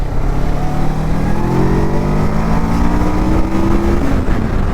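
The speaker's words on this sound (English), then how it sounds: "it's really fun to ride a Kawasaki. This is a 650cc." A Kawasaki 650cc motorcycle engine accelerating hard, its note climbing steadily in pitch through a gear, loud and close with steady wind and road roar, no talking.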